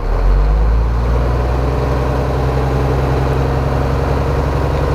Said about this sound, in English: I will now rev the engine.